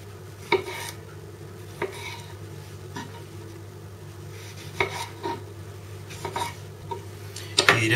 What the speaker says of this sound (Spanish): El tomate lo habremos lavado y simplemente lo trocearemos